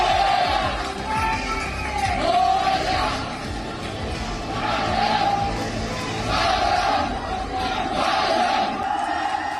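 A dense crowd of thousands roaring and cheering outside a Mumbai railway station, a continuous loud swell of shouting voices that rises and falls in waves.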